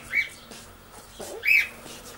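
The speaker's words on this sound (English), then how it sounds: "Ooh, there's a sparrow inside." Two short, bright chirps from a sparrow that has flown indoors, one near the start and another a little louder after a pause, over a quiet room with no talking.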